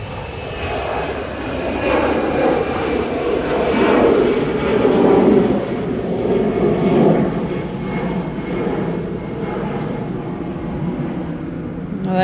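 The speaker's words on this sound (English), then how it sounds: "EasyJet's taking off." An EasyJet airliner takes off at Manchester Airport, its jet engines a loud, steady roar that swells slightly midway and holds throughout.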